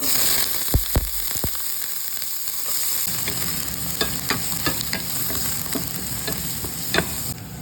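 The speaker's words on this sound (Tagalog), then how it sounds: "So, ilagay muna natin yung sibuyas." Onion hits a hot pan and fries with a bright, continuous sizzle, punctuated by several crisp stirring clicks of a utensil against the pan.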